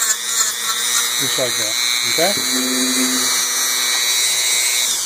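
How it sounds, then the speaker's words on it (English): A high, steady whine of a rotary cutting wheel slicing through the plastic tank of a Ford radiator runs throughout, close and continuous, while someone talks over it. "the plastic of the radiator tank actually melts itself onto the cutting wheel, and it still cuts"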